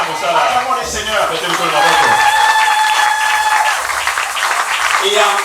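Church congregation applauding and cheering in a warm burst of clapping mixed with voices, loud and close, tapering slightly near the end.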